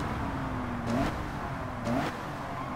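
A Mitsubishi GTO in Gran Turismo 7 on the Deep Forest circuit drones with a steady mid-pitched engine note, broken by two brief revving blips from downshifts about a second apart.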